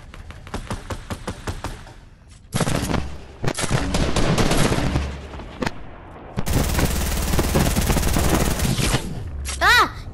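Rapid gunfire in Fortnite, bursts of automatic shots and sustained loud fire trading back and forth, with a sniper shot near the end and excited players talking and shouting over it.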